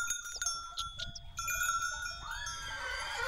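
Goats in a sheepfold in the highlands of inland Sardinia are being milked by a shepherd, with clanking bells and scattered bleats that end in a long, clear bleat close by.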